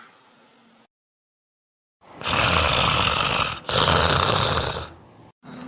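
Cartoon snoring rumbles through two long, loud, noisy inhales separated by a short gap, following a faint quiet stretch, with a sudden sound cutting in at the end.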